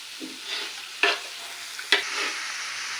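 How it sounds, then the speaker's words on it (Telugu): Beetroot pieces being stirred and mixed in a pan: a soft frying sizzle with a few sharp scraping strokes of the spoon, heard close and without talk. "ఇలా మొత్తం బీట్రూట్ అంతా వేసుకొని బాగా కలుపుకోవాలి బాగా మిక్స్ చేసుకుని"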